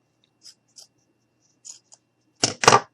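Scissors cut a small piece of tan felt, producing a few soft, scattered snips in near silence, followed by two louder, close, crisp cuts at the end.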